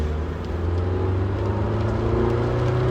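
A BMW car pulling away slowly, its engine giving a steady low drone and whir that climbs only a little, loud and close throughout with no talking.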